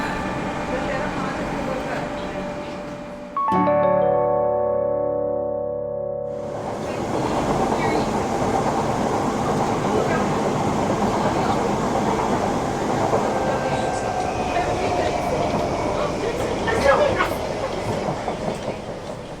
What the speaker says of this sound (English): now it's just a long train ride home.